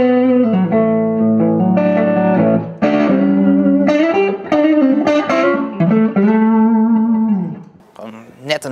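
A Fender Vaporizer 12-watt tube guitar amp with two EL84 power tubes and two 10-inch speakers, in clean mode, rings out loud sustained electric guitar chords and notes with reverb.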